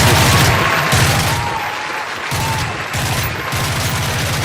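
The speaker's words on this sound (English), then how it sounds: "Applause and gunshots should not really go together." Rapid bursts of gunfire crackle in repeated volleys, mixed with a wash of clapping, loud and dense throughout with brief gaps between bursts.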